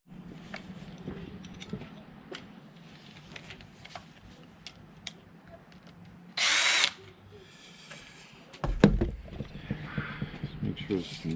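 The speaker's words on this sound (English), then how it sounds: "I'm just going to drill a hole there, be a single finger hole." A power drill whirs in one short, sharp burst amid quiet workshop clatter and scraping, with faint muffled voices in the background.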